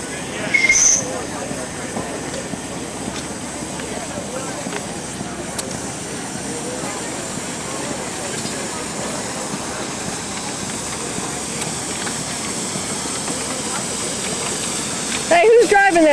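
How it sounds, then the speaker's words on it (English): A train passes steadily in Jacksonville, a long continuous rumble and hiss of rail cars and wheels with faint squeals, with a brief brighter screech near the start and a louder burst at the end. "That train."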